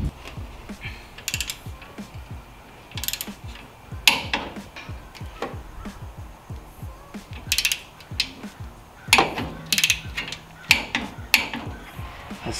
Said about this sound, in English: Torque all four of those bolts